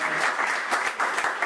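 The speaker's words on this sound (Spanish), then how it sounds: "un aplauso" An audience at a political bohemian evening with music applauds, steady close clapping in short surges for the whole moment, with no speech over it.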